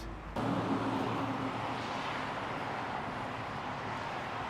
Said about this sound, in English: I'm gonna have to stop for a little while because these cars.